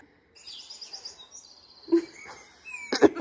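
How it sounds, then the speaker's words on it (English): Tropical bird calls played from a phone sound app: chirps, trills and whistled tweets in quick patterns, fairly close, with a few louder bursts near the end. "I come downstairs and I hear like tropical birds."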